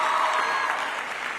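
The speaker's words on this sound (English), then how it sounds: "how about a round of applause for them?" A crowd claps for a girls' senior high school team at a schools renewable energy competition, a steady, loud wash of applause with no talk.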